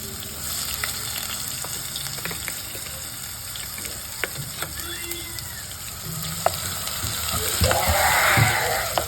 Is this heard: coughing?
no